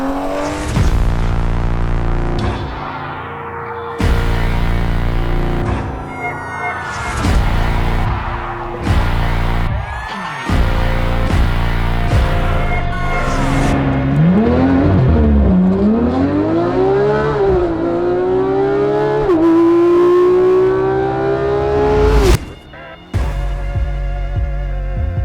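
A tuned Toyota Supra engine, about 800 horsepower with an aftermarket exhaust, revs repeatedly in sharp bursts, then climbs and falls through a long roaring sweep before cutting off abruptly, loud and close.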